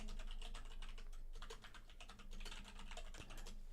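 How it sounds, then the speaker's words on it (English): Fast typing on a computer keyboard gives a run of quiet, rapid key clicks in irregular bursts, close by and with no talking. "I'm typing it."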